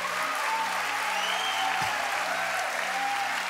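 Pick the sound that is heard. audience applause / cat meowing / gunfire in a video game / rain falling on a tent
audience applause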